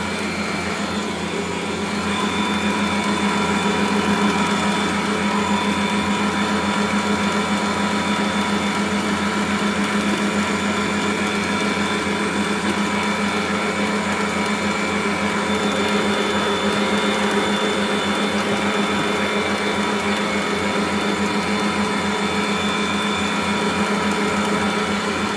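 An electric mixer beats butter for a vanilla cake batter, a steady, loud, high-pitched motor whine that runs continuously and evenly with no talking.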